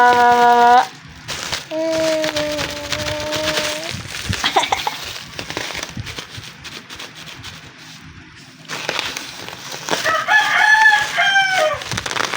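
A rooster crows several times in long, drawn-out calls, with soft clucking from chickens between the crows; the calls are close and clear against a quiet background.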